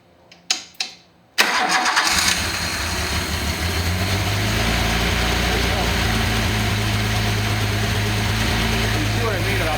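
A car engine mounted on an engine run stand cranks briefly in a few short bursts, catches, and then settles into a loud, steady idle with a deep, constant hum.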